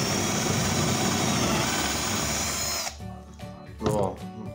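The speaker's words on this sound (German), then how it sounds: "mit dem Bohrer rein und gleich auf höhere Drehzahl gehen" A power drill boring angled pocket screw holes into wood runs loud and steady, spinning at high speed, then stops abruptly; afterward someone speaks over faint workshop clatter.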